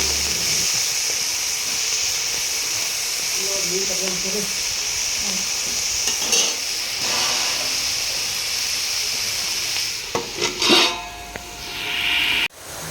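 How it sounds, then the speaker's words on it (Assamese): Spinach fries in a pan with a loud, steady sizzling hiss that runs throughout. A voice briefly murmurs underneath partway through, and a few scraping stirs and clatters come near the end. "ইতিমধ্যে পালেংখিনি মই ভাজি আছোঁ"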